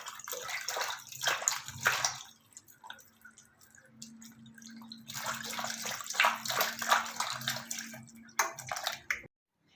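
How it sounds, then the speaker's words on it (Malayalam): Pieces of peeled, cut breadfruit washed by hand in a bowl of water to remove the sap, with steady splashing, sloshing and dripping in two long bursts separated by a quieter pause. "രണ്ടോ കഷ്ണങ്ങളൊക്കെ ആക്കി കറ പോകാനായിട്ട് നമുക്ക് കഴുകാം."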